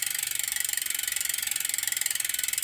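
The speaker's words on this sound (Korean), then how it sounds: "로우 한계 조정 나사를 드라이브를 이용하여 조금 더 조여줍니다." A screwdriver turns the low limit screw on a bicycle rear derailleur, giving a steady run of fast, evenly spaced ratcheting clicks close by with no talk.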